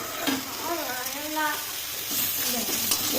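Begun bhorta, mashed eggplant with a generous amount of coriander leaves, stirred and frying in a pan, with a steady close sizzle and scraping under a voice talking.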